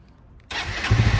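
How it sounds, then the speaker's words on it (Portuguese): A Honda CB500 motorcycle engine starts after a brief quiet pause, catching abruptly and settling into a loud, close, rough idle with a low throbbing rumble. "Vou ligar aqui a moto para vocês verem."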